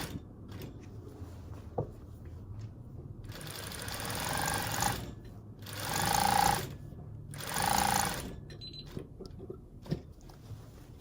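A sewing machine sews a double stitch dress hem in three separate bursts of a few seconds each, moderately loud and close, with quiet handling and faint clicks between the runs.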